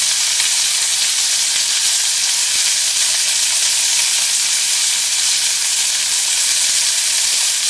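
Pollock frying in a pan in a village kitchen gives a loud, constant hissing sizzle that holds steady and close throughout, with no talk over it.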